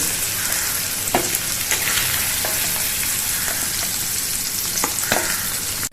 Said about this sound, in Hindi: ये देखिए पनीर हमारा ये भुन गया है।